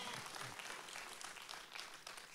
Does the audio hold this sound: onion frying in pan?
no